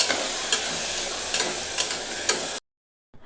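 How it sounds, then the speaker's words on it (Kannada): Turmeric and tomato paste are stirred in a hot pan while cooking a masala, a steady sizzle with rhythmic scraping strokes of the spoon about every half second, ending abruptly in silence. "2 ಟೊಮೆಟೊನ ಮಿಕ್ಸಿ ಮಾಡ್ಕೊಂಡು ಪೇಸ್ಟ್ ಮಾಡ್ಕೊಂಡೇನಿ ಅದನ್ನು ಹಾಕ್ಕೊಳ್ತೀನಿ ಎಲ್ಲನೂ ಒಂದ್ಸಲ ಮಿಕ್ಸ್ ಮಾಡ್ಕೊತೀನಿ"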